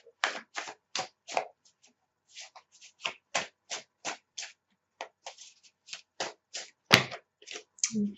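Tarot cards shuffled by hand, a quick series of crisp riffles and taps close by, irregularly spaced with short gaps between bursts.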